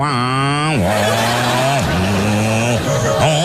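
A motorcycle exhaust revs loudly in a rising, buzzing drone that drops sharply three times, about once a second, with no gaps between revs.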